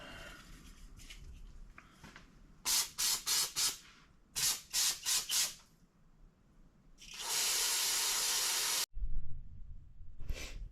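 Aerosol parts cleaner sprays onto a brush during a first-gen Tacoma heater core job: two sets of four short hissing bursts, then one long steady spray, all close and loud.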